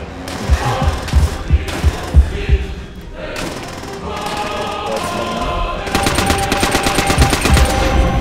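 Gunfire in the shooter video game Call of Duty: World at War, with rapid automatic bursts and heavy thumps close up, ending in a dense sustained volley.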